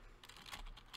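Rapid keystrokes on a computer keyboard while coding in Gamemaker Studio 2, a close, steady run of soft clicks with no talking.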